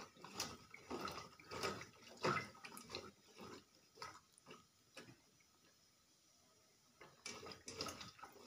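Whole spices being rinsed in water before boiling, with bursts of splashing and swishing water that come in uneven waves, pause into near quiet, then resume, close and fairly soft.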